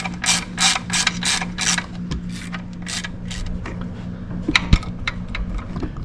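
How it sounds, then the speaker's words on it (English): Hand ratchet turning 8 mm clutch pressure plate bolts on a SilverSport TKX hydraulic clutch, a close series of quick mechanical clicking bursts, then scattered lighter clicks and a sharp knock, no talk. "I'm going in the star fashion, and I'm using a hand ratchet."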